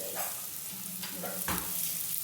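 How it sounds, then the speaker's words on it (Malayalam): Onions sautéing in a pan for chicken curry, a steady close sizzle with a few scraping stirs of a spoon against the pan. "ഉള്ളി വഴറ്റിക്കൊണ്ടിരിക്കുകയാണ്."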